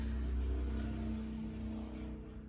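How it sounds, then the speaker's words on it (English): A loud motorcycle engine drones steadily nearby, slowly easing off, with no voices. "Very loud motorcycle"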